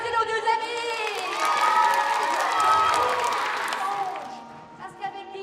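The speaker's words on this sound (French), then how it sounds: "Tout le monde a applaudi nos deux amis!" A children's audience at the end of a stage show claps and cheers, an excited crowd with high shouts rising and falling over several seconds, fairly close and lively.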